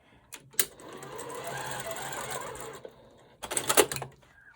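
A sewing machine stitches a quilt block in two bursts, first a steady run of about two seconds, then a shorter louder spurt after a pause, with brief clicks before each run and quiet gaps between.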